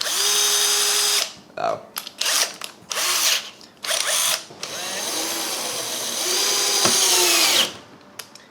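A power drill boring the corners of a Cessna 172 instrument panel support runs in several short bursts, then one long steady whine, loud and close. A voice gives a brief exclamation between bursts.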